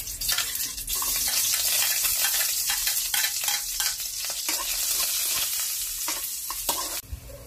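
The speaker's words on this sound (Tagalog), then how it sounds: "Magigisa lang tayo ng ating sibuyas, luya, at saka bawang." Onion, ginger and garlic sauté in a hot pan, producing a loud continuous sizzle with scraping stir strokes, then a sudden sharp clatter near the end.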